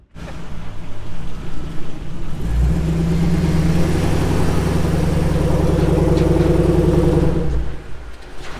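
A car engine revs hard during a vehicle recovery, a loud, close, sustained droning growl that builds after a rough start and holds steady for several seconds before easing off.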